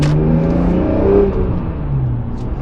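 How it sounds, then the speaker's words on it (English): A BMW M3 Touring's S54 engine, a 3.5-liter stroker making 400 wheel horsepower, revs hard and close, its dense growl holding steady and swelling slightly before easing back, with no talking. "I still want to open up this car because this S54 is unlike anything else"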